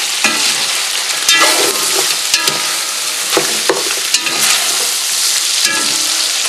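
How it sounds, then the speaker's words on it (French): Coq civet with thyme seeds being stirred in a hot pot, a constant loud sizzle of frying meat with repeated scraping and knocking strokes from the spoon, close up and with no voice. "Je vais mélanger un petit peu."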